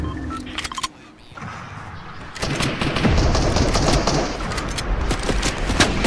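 Rapid bursts of gunfire ring out in Fortnite gameplay, loud and close, with dense overlapping shots building into sustained fire through the second half after a brief quieter gap.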